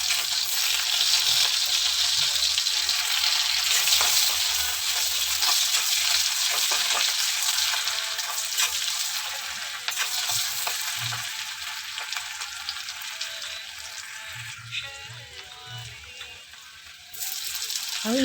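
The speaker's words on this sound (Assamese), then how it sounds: "আৰু এয়া দিলোঁ কাটি থোৱা পিঁয়াজখিনি" Chopped onions sizzle and fry in hot oil in a pan with bay leaves, a continuous close crackling hiss with occasional stirring scrapes.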